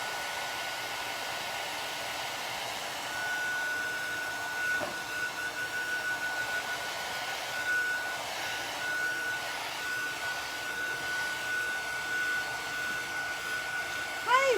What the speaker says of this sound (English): Let me see if I can get my other heat gun.